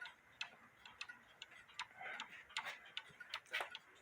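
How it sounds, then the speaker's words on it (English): A quarter-hour cuckoo clock under repair ticks faintly and steadily, with about a dozen quiet tick-tock beats and no talking. "I need to put my hearing aids in to listen for the even tick-tock"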